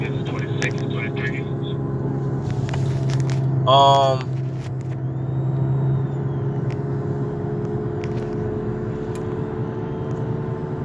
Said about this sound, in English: bear with me because I am driving